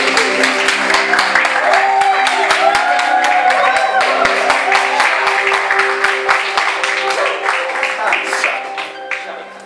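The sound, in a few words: wedding guests applauding the newlyweds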